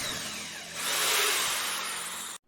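A power drill bores the second hole for a wooden dowel joint, whirring steadily and loudly close by, rising as the bit bites into the wood, then cutting off abruptly.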